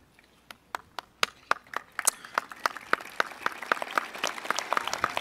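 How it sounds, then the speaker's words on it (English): Applause at a 2013 college commencement ceremony, beginning as a few sparse, separate claps and building over several seconds into denser, louder clapping from a growing crowd. "collectively we will be able to give you our applause"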